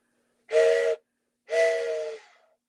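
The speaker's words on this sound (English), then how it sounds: "Choo, choo, choo, like a train." A train whistle gives two clear, loud blasts, one short and then one longer that fades out. There is silence before and between them.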